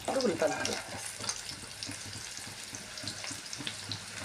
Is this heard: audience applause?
no